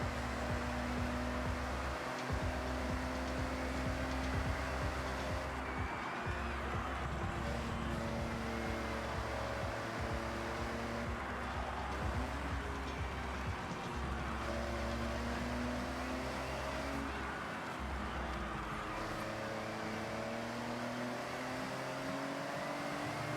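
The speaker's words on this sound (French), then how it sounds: "On dirait que le moteur, il va exploser, quoi." A car engine in Forza Horizon revs hard and holds at a high, straining pitch, with repeated shifts and dips in tone over a long, loud, continuous stretch, no voices over it.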